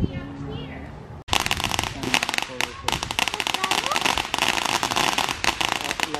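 Firecrackers burst in a dense, rapid crackling barrage, loud and close, after a few seconds of quieter talk and background noise.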